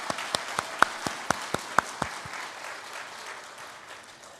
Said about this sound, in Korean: 진심을 담아서 한번 박수하겠습니다